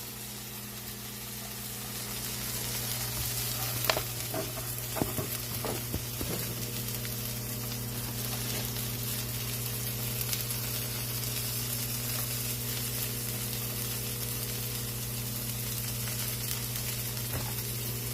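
Tuna steaks searing in a pan on a stovetop, a steady broadband sizzle running unbroken throughout with a constant low hum beneath and a few brief clinks near the start.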